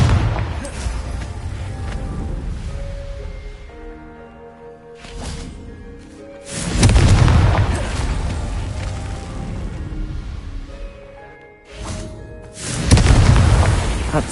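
A Confringo blasting spell from Harry Potter goes off as a pair of heavy, booming explosions, each a loud burst followed by a long rumbling roar that fades away, with ringing tonal effects in between.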